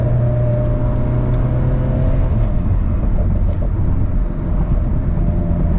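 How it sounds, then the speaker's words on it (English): Loud, close Alfa Romeo 4C sports car engine roar with a steady hissing intake whoosh, sustained throughout with slight swells in intensity, during a track day. "So for this hissing sound, do you get it with the factory intake?"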